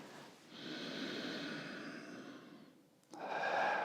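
Chest breathing shown as part of an exercise breathing lesson: a long, steady breath close to the microphone, a short dip, then a sharper and louder breath at the end, with no speech.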